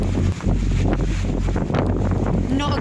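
Strong wind buffets a moored yacht near a muddy shore, loud and gusty against the microphone, with water noise underneath and a voice speaking.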